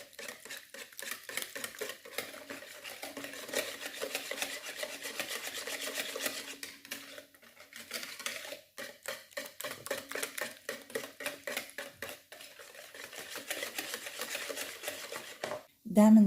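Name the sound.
stirring chocolate cake batter with cold milk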